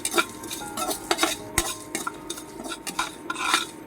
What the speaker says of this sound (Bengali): এগুলোকে আমি একটু ডাই রোস্ট করে নেবো